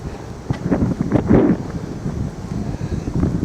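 Wind gusting across a sea cliff above a seafront spa area, a steady rough buffeting roar battering the microphone, swelling briefly in the middle before settling back into a continuous blustery rush.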